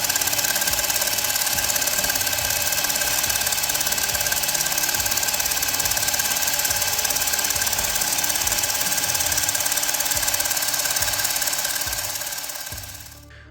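An electric drill spins the swirl flaps of a BMW M57 diesel intake manifold during cleaning, producing a loud, steady rattling whir with a rapid mechanical chatter that runs for over ten seconds before winding down.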